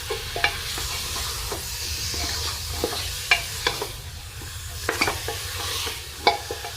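Salt is stirred into a country-style black chicken curry in a frying pan, with irregular spoon scrapes and knocks over a soft, continuous sizzle, close and without talk.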